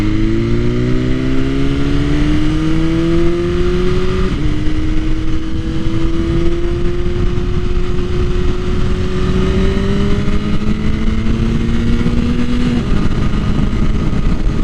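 A 2021 BMW S1000RR motorcycle with an Akrapovic Evolution exhaust rumbles loud and steady while riding, its engine tone climbing through several gear-like pitch sweeps under constant wind roar, with no talking.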